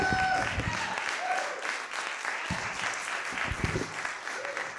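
A comedy audience claps continuously for comedian Dustin Meadows, moderately loud and even, while a voice talks briefly over the applause.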